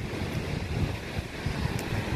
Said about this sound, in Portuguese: O único som deve ser do vento e do mar.